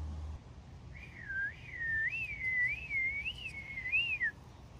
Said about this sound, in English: Whistling contest, ready?